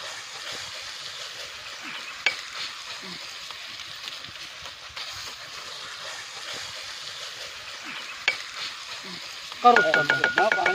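Bhuna keema, half a kilo of minced meat with green chillies, cooks in a pot over an outdoor village fire, giving a soft continuous sizzle with occasional scraping stirs, then a sharp clatter as a lid is lifted.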